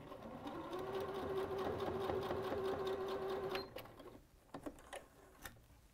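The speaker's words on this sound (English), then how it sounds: "we're just going to sew across to hold our pleat down" A sewing machine stitches across a folded fabric pleat, a steady close mechanical whir with a constant motor tone running for several seconds, then stopping, followed by a few faint handling clicks and taps.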